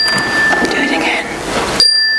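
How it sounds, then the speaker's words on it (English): Small bells ring out in a church setting with sustained tones lingering over a busy, noisy background, then cut off abruptly near the end leaving a quiet decay of high ringing. "Do you want to hear some bells?"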